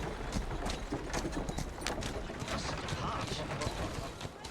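Horse hooves clip-clopping in Assassin's Creed Syndicate, a steady quick rhythm of hoofbeats over a busy street ambience, with a voice talking over it.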